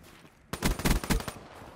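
A submachine gun in Call of Duty Black Ops 3 fires one short rapid burst of about five shots, close and loud, after a quiet moment. No voices are heard.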